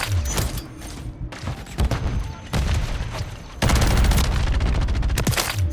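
BP50 rifle fire in Modern Warfare 3, loud close bursts of rapid automatic shots with brief pauses between, then a longer sustained burst, backed by booming game effects.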